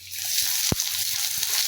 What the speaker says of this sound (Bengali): পেঁয়াজটা আমি হালকা মতো ভাজবো